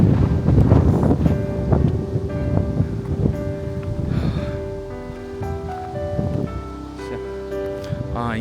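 Wind blows outdoors in the Finnish countryside, buffeting the microphone in strong gusts that ease off later, with faint tonal hums and brief noises in the background.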